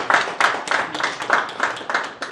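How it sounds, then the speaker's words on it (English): Audience applause at a live financial freedom event in Las Vegas, heard as a short burst of clapping with rhythmic surges, fairly close and alone without talk. "Let's give her a big round of applause."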